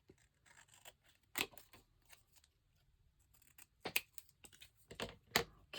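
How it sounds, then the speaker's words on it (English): Scissors snip through paper scraps for a vintage book plaque, a few crisp cuts at close range with softer rustling between them, alone without talk. "Okay, so then cut that."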